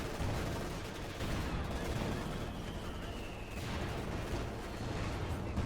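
Gunfire in the World War II strategy game Company of Heroes 2, with shots from a command tank or Puma armored car among dense, continuous bursts of firing and battle noise rumbling steadily throughout.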